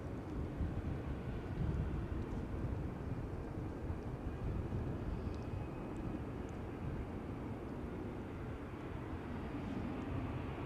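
A large KLM airliner arriving from Bengaluru lands on Schiphol's Polderbaan runway 18R, heard as a broad, steady low rumble and roar with wind buffeting, without speech.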